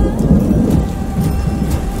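Heavy rain pours with low rumbling thunder in a Hindi radio drama, a loud, dense wash of downpour close and continuous without any voice.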